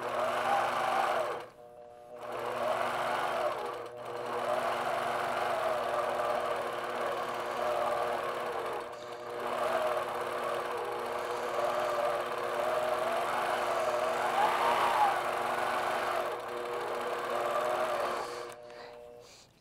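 A longarm quilting machine stitching along rulers, a steady close mechanical hum and whir with brief pauses where the needle stops, no talking.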